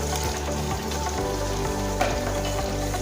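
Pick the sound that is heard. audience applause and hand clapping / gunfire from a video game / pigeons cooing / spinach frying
spinach frying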